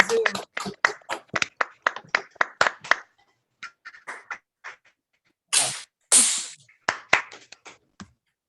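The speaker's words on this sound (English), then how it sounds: "Feel free to unmute yourself and give a real clap." Scattered claps come from several people over a video call, arriving as separate bursts of varying loudness with a short lull, then a denser cluster and a few final claps.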